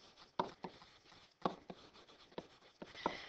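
Rates of change being written out by hand in a calculus lecture on related rates: a quiet string of sharp taps and short scratchy strokes in an uneven rhythm, close up and alone.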